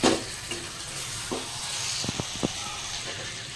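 Gentle stirring of tomato egg curry in a pan, with a soft steady sizzle under a few short scraping strokes of a spoon, close and moderately quiet, no talking.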